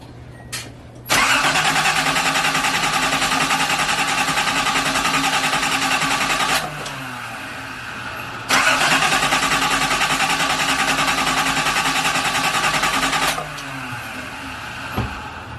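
Custom Datsun 280ZX engine cranking over without catching, in two long loud bursts of rapid rhythmic starter churning separated by a short pause.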